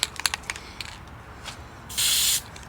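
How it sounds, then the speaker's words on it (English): Some small clicks and rattles, then a short hissing burst from an aerosol spray can, close by and lasting under half a second. "And I'm going to just use some of the spray."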